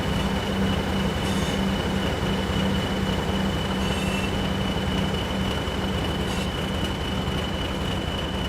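A Class 158 train passing in Train Sim World 3 on the Glossop line near Manchester Piccadilly, a steady loud rumble of rail wheels with a constant tonal hum and brief squeals, running unbroken throughout.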